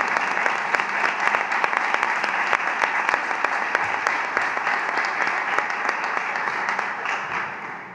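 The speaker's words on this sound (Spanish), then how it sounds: "Un fuerte aplauso para Juan Andrés Azorí" An audience applauds steadily for a full eight seconds at a Nazareno brotherhood event presenting and exalting the poster for its third centenary. The clapping is dense and even, then tapers slightly at the end.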